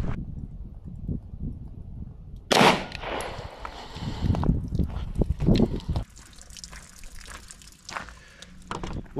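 A 9mm handgun fired at homemade armor: one loud, sharp report, followed by scattered knocks and rustling at close range.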